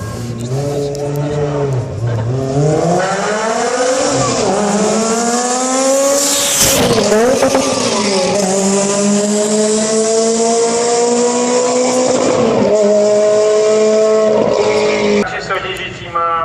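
A modified supercharged 1.8-litre, 320-horsepower, lightweight rear-wheel-drive Lotus Elise driving off loudly, engine revving and rising through gears with a brief tire squeal mid-run, close and continuous.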